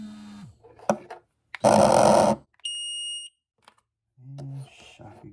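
Beeps from a PETAVERN G5 dog training collar triggered by its remote: a steady tone of about half a second in the middle, between bursts of other noise and handling sounds, with a dog's growl-like sounds nearby.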